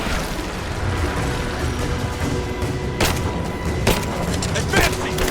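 Gunfire erupts in Rise of the Tomb Raider as a few sharp cracks punch through a dense, rumbling combat bed, with shouted voices in the mix.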